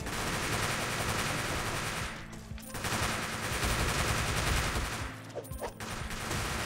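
Gunfire-like rapid spitting from a zombie in the co-op game GIBZ, heard as dense continuous bursts that drop out briefly twice, then resume loud and close.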